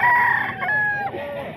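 Sweater gamefowl rooster crowing close and loud at a busy poultry market, a single drawn-out cock-a-doodle-doo with wavering, falling notes.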